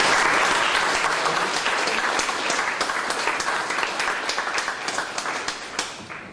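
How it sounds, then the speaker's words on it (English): A live audience at an evening speaker event gives sustained, full applause. The clapping is loud and dense at first, then thins into more distinct individual claps toward the end. "So please do give both a big round of applause."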